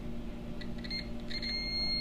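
A multimeter gives short, quiet continuity beeps while testing a sensor on a BMW M62TU V8 engine, a few soft high tones over a steady low hum with no talking.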